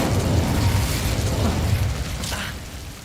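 Casting the Incendio fire spell in Hogwarts Legacy brings a loud, continuous roaring, whooshing burst of flame with a low rumble that fades slightly toward the end.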